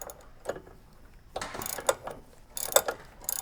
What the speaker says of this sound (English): So we'll get onto the nut, and we'll loosen that